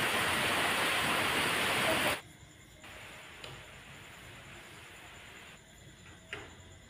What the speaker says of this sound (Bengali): দেখো আবার বৃষ্টি চলে এসছে।